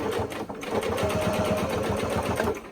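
A sewing machine stitching the facing seam of a skirt, a continuous fast mechanical whir with rapid needle pulses, close and steady throughout without speech.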